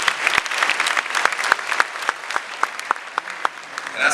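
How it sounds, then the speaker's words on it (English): Applause at a memorial lecture honoring Dr. K.A. Busia: loud, close clapping from a hall audience, with individual sharp claps standing out over a dense, fluctuating bed of hands. "How about another round of applause?"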